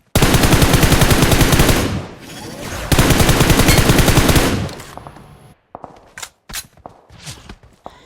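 Automatic gunfire from a machine gun sprayed while prone in the mobile battle-royale game PUBG Mobile (BGMI), two long loud sustained rapid bursts, then scattered sharper single shots and game effects trailing off.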